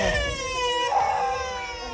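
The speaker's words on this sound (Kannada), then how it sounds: "ನಾಯಿಗಳು ನೋಡು ನೋಡಿ" Dogs in an old tribal hamlet at H.D. Kote give a drawn-out, whining howl with a wavering pitch, close and clear for about two seconds with no talking.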